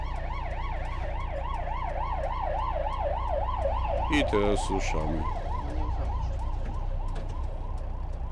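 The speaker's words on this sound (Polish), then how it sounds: "Gdzieś jest karetka, patrzymy, rozglądamy się uważnie." A wailing ambulance siren cycles up and down steadily over engine rumble, with a brief burst of other noise and a short spoken phrase midway.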